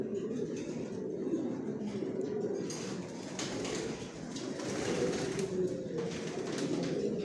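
Pigeons in a breeding loft give a steady, low murmuring coo that runs throughout, with several birds overlapping close by under light background rustle.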